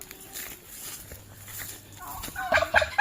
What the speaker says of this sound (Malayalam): ടർക്കി